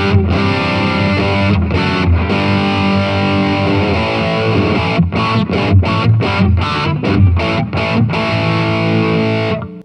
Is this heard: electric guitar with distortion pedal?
yes